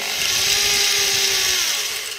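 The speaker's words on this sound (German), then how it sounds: "jetzt mit ganz leichten Druck nur weiter bohren" A power drill bores into a ceramic baking dish with a steady, high-pitched grinding whine that holds evenly for about two seconds before tapering slightly, loud and close with no voices.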